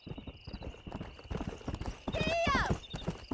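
Horse hooves clip-clop in the Red Dead Wild West game, a quick steady run of close hoofbeats. A whinny rises over them partway through, and talking is heard at the same time.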